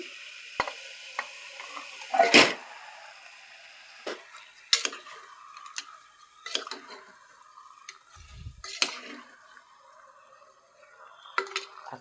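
Mutton is added to a pan for a mutton and chana dal curry, a quiet sizzle under a series of sharp clinks and scrapes from a spoon stirring against the metal pan, with one louder clatter early on.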